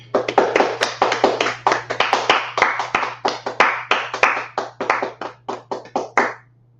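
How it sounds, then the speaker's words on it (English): A group at a Wednesday-night scripture and law class claps hands in a quick, steady rhythm of loud, close claps that stop after about six seconds, with a low electrical hum beneath. "All right, let's clap it up."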